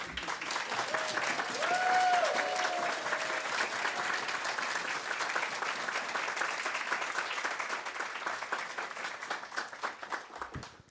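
A large conference audience gives a loud, sustained round of applause mixed with a roar of cheering, dense clapping filling about ten seconds before thinning out at the end.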